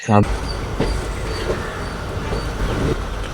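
Puducherry Express train near Villupuram Junction, a steady close rumble of wheels and carriages with faint rhythmic clicks over the track, and a loud thump at the very start.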